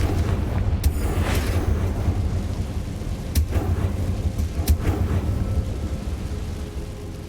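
Confringo blasting spell explosions in the video game Hogwarts Legacy, a steady rumbling bed broken by several sharp booming bursts, loud and close, with no talk.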